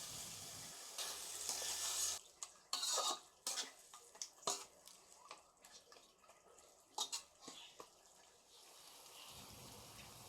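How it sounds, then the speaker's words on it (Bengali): Fish heads stirred with spice paste in a pan for a Bengali muri ghonto dish, giving a steady sizzle with irregular scraping and clinking of a spoon against metal, close and fairly loud. "এবার মাছের মাথাগুলোর সাথে মশলাটাকে ভালো করে মিশিয়ে নেব।"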